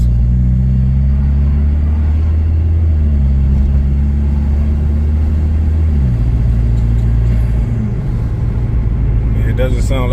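A Chevy Cruze engine with a Magnaflow exhaust and downpipe runs loud and close, a deep steady drone whose pitch steps down a few times as the revs settle.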